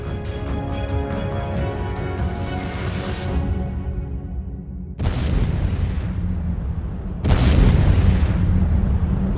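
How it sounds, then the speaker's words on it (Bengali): A sustained rumbling roar from a large cannon shell explosion, swelling in two heavy blasts that fill the air with deep, lingering boom. "বিস্ফোরণের ভয়ঙ্কর আওয়াজ কাঁপিয়ে দিল মাটি"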